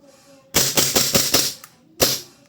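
A WE G17 Gen 5 gas blowback airsoft pistol fitted with a high impact roller fires about five quick sharp cracks in a rapid string, then a pause and one more loud shot, close up.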